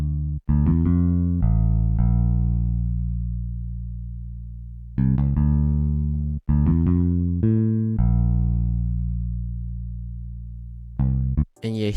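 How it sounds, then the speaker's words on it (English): A Finger E bass from the Xenology pack plays in a beat as long sustained synth-bass notes with sharp attacks that slowly fade, a few separate hits spread over the stretch, loud and alone. "that bass, which is just the bass from Xenology's the Finger E bass one"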